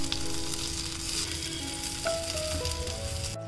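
Shaped mutton mince seekh kebabs fry in a pan with a steady, close sizzle throughout, broadband crackle holding level from start to finish with no talking.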